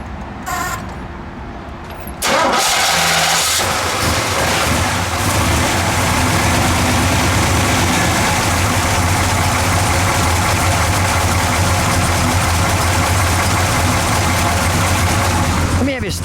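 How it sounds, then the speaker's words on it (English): A 1969 Oldsmobile F85 W-31 with a 350 V8 cranks and fires after a quiet two-second opening, then holds a loud, steady, rumbling idle close to the microphone for the rest of the clip. "Let's fire it up, shall we? We'll let people listen to it idle."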